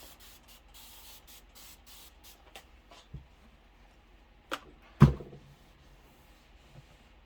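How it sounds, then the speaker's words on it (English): A spray can mists white dot fabric pieces laid out for a table topper, with several short hissing bursts early on, then quieter handling knocks and a louder thump midway. "And even though I spray these all at once, I will press them individually"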